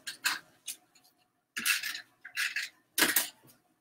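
Scissors slicing through black cardstock in a few short bursts, crisp close snips separated by brief pauses, with no talking.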